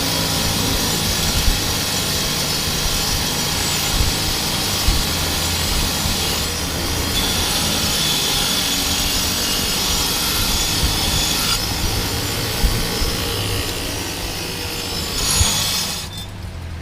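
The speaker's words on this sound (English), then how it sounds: "now I'm going to go ahead and start taking the rust scale off of it" Rust scale is scraped and rubbed off steel fabrication parts in a workshop, a continuous gritty abrasive scrubbing with occasional knocks, fairly close and with no speech.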